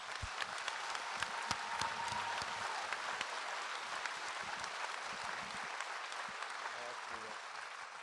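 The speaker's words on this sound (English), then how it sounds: "I think we should give Roger Ebert a big round of applause" A film festival audience at Ebertfest gives a sustained round of applause after a Q&A for Patang (The Kite), a dense, even wash of many hands clapping that fills the hall, with a voice briefly heard beneath.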